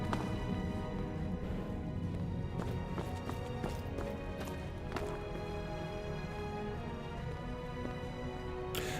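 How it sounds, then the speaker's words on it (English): Footsteps sound behind the player in the Skyrim video game, a quick run of thudding steps over a dense game background that carries on throughout. "I keep hearing like footsteps falling behind me."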